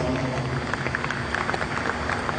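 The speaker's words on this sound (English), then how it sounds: "let's give our exhibitors out here for Junior Champion a big round of applause" A crowd at a red and white Holstein cattle show applauds the Junior Champion exhibitors, a dense, steady wash of clapping throughout.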